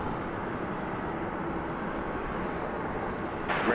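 An airliner at DFW Airport at night gives a broad, steady distant roar that holds evenly throughout, with a slight swell at the very end and no talk.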